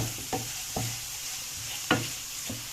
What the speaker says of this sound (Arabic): فلفل اسمر والكمون والملح ضفتهم كلهم، واقلب تقليبه حلوه كده